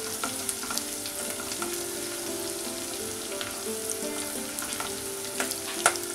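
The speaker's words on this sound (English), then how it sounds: "Now we'll saute it. You want a brown color," Chopped onion, ginger and green chili sauté in hot oil in a pan, a steady close sizzle and crackle with occasional stirring scrapes running throughout.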